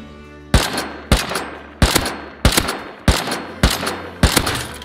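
Gunfire in the survival game Rust: seven sharp, loud shots spaced roughly evenly about half a second to a second apart, each with a short decaying tail, with no talking.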